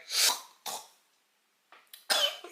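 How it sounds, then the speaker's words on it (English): A few harsh coughs close to the mic: two quick bursts, a brief pause, then a throat-clearing cough and another sharp one. "I'm just coughing on this camera like I'm coughing on y'all."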